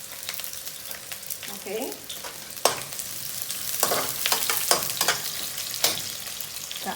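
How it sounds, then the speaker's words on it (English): Onions frying in a pan with fenugreek for a dry fish gravy, a close sizzle with sharp clacks and scrapes of stirring, and a voice speaking briefly. "I'm going to add in the onions."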